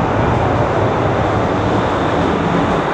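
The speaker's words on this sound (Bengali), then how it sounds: "এই যে এক কামরা থেকে আরেক কামরায় যাচ্ছি, এত স্পিডে ট্রেন চলছে" Steady, loud broadband rumble and whoosh of the Whoosh high-speed bullet train in Indonesia running at speed, heard from inside a carriage while walking between cars, continuous with no voices.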